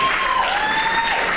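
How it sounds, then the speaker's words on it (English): Pageant audience at Miss Africa Texas 2015 breaks into sustained applause for a winner, dense clapping with a faint tonal whistle or ring running over it. "Can we give her a round of applause?"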